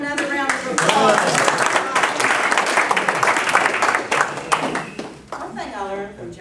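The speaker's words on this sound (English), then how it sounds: "let's give him another round of applause" A round of applause from the audience at a roast event, with a voice speaking at first, then a steady spell of clapping from the crowd, followed by talking again as the clapping thins out near the end.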